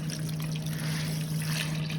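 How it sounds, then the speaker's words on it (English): Water poured over two chickens, a steady close trickle and splash with a faint constant hum underneath. "I'm going to add some water now"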